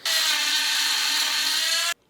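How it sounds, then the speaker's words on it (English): Power drill boring a hole in wood while shaping a wooden knife, one loud, close, steady high whine lasting about two seconds before stopping abruptly. "Drill some holes, and then it'll make this guy's job easier"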